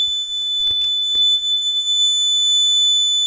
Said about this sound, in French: Arrêt signaux sonore pour pas avoir les oreilles en feu car le buzzer là il crache énormément